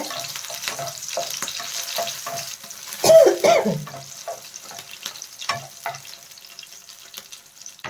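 Small tomato pieces fry in a pan for tamarind leaf chutney, a moderate close sizzle with intermittent stirring and scraping, one louder clattering burst midway, and no talking.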